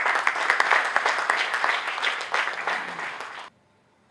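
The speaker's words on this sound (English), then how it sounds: "please give architect Kanetkar a huge round of applause" An audience at an architecture and interiors design debate in Pune applauds architect Kanetkar, a dense round of clapping that holds steady for several seconds, then cuts off abruptly into near silence.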